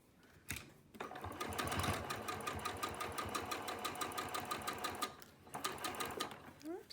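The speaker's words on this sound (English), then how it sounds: "So now we'll sew that with a 1/4 inch seam" A domestic sewing machine runs a quarter-inch seam through quilting fabric with a steady, fast mechanical chatter for several seconds, then slows and stops with a few stray stitches; a voice is heard briefly.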